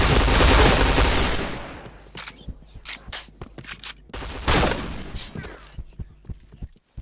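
Gunfire in the Point Blank first-person shooter game: a loud, dense burst of automatic fire, then a scattered run of sharp single shots and impacts, with a second burst partway through.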